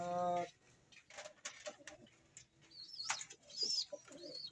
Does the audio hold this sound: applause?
no